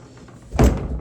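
A beat-up closet door with a hinge fault is pushed shut against its worn jamb, giving one dull, fairly loud thunk near the middle that fails to latch, with a short rattle after.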